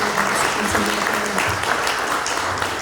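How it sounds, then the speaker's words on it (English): An audience at a literary talk applauds, a dense, steady clapping that fills the room throughout, with a voice faintly audible underneath. "Let's please give another round of applause."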